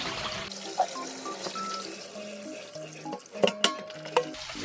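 Boiled dried radish greens (siraegi) are washed by hand in water in a narrow kitchen sink, with soft sloshing, splashes and a few clattering knocks against the basin over a steady background tone.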